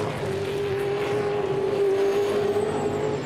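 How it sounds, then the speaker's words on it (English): Supercars race car engine at the Sandown 500 in 2012, a loud sustained high-revving drone holding a steady pitch as the car runs, with no talk over it. "listening to the Lee Holdsworth car, that is a wild sound"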